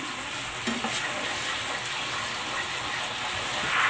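Garlic kangkong and tofu sauce sizzles and bubbles steadily in a hot pan as a cornstarch-and-water slurry is added, a constant crackling hiss with stirring and a slight watery gush near the end.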